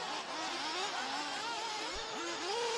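RC buggies race on a ROAR track, their high-pitched electric motors whining and rising and falling steadily as they lap around, loud and continuous.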